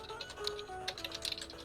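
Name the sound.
typing on a keyboard picked up by the mic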